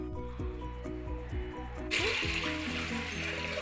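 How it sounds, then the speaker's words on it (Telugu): Water pours into a cooking pot for bottle gourd sambar, a short rushing splash that starts partway through over steady background music. "ఒక 2 గ్లాసులు వాటర్ వేసుకోండి"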